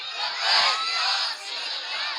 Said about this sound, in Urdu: ڈٹ کے لاؤ نعرہ